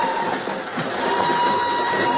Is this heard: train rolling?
yes